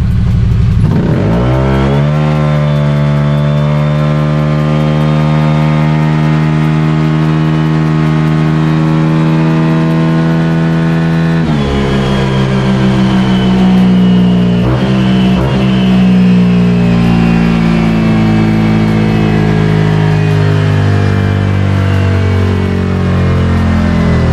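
A stock motorcycle engine on a dyno baseline run revs loudly and steadily climbs in pitch under sustained full throttle, drops briefly, then climbs again in a long continuous howl.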